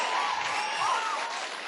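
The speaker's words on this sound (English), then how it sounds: "지금까지 나온 박수 중에 제일 큰 박수였습니다" Audience applause for a lecturer at a leadership talk, a steady dense wash of clapping sustained throughout, loud and even with no voices over it.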